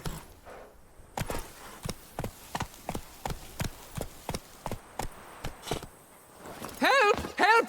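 Roach, the horse in The Witcher 3: Wild Hunt – Blood and Wine, gallops with steady, evenly spaced hoofbeats close up, and a voice breaks in over the final second.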